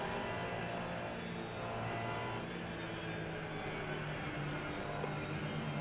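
A Porsche race car in a racing video game holds a steady, loud engine drone from start to finish, with no other sounds breaking through.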